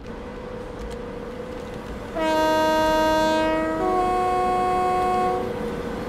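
A BR Class 92 locomotive sounds a loud, sustained two-tone horn in a train simulator game at a London station. The horn steps from one pitch to the other over a constant rumbling traction hum.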